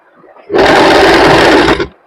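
A sewing machine runs in one steady, loud burst of a little over a second, double-stitching kurti fabric, with faint background sound before and after.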